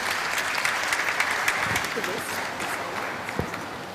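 A crowd applauds steadily throughout, a dense wash of clapping at an even level with a few sharper claps standing out.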